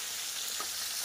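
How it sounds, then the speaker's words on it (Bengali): Fish fries in hot oil in a pan, a dense, steady crackling sizzle close up for a brief moment, with no voices. "অল্প করে করে মাছ ভাজা করে নেব।"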